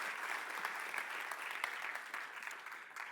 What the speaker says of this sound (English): Would you please give our villain a nice big round of applause?